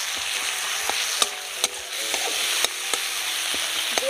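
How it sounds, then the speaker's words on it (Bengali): Garlic and ginger paste frying in a pan with tomato and onion for a boal fish curry, a steady close sizzle broken by sharp spoon taps against the pan every half second or so, with no voices. "টমেটো আর পেঁয়াজ ভালো করে ভেজে নিয়েছি। এবার আমি এর মধ্যে দিয়ে দেবো রসুন বাটা আর আদা বাটা।"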